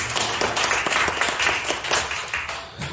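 An audience at a media ministry seminar applauds a professor coming up to lecture, steady crowd clapping with distinct individual claps audible, sustained and fairly loud.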